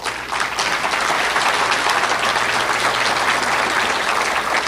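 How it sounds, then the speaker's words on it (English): A large audience at an Idaho Second Amendment political event breaks into steady, dense applause that holds at full volume for several seconds, with no voices over it. "I would like my senator, Senator Steve Vick, just to stand up and get a round of applause."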